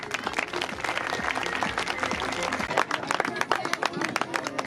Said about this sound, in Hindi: मेरे लिए भी तालियां बजा दें